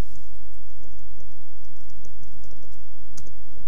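Someone types C++ code on a computer keyboard, producing scattered soft key clicks in irregular bursts over a steady low background hum, fairly close and without talk.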